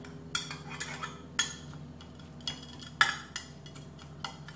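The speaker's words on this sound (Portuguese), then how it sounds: "Vou partir, não vou comer, mas eu vou partir pra vocês verem." Metal cutlery clinks and scrapes against a plate while a flourless savory pie is cut into, a series of sharp taps spread over a few seconds, close and without talk.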